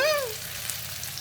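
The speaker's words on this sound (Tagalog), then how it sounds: "Let's fry this." Tofu for sisig sizzles in hot oil as a soft, steady hiss, briefly topped at the start by a short high-pitched squeal.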